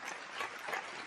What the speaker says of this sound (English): Let's get that a round of applause.